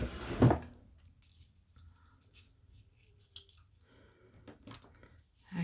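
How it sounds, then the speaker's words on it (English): A sharp wooden clunk of a drawer opening at the start, followed by quiet rummaging for scissors and small knocks, ending with another thud as the drawer closes. "Just get my scissors out of the drawer."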